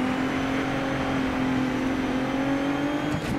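Truck spinning its wheels in Dirt 3 Landrush, a loud continuous engine roar with a steady high whine throughout, no talking.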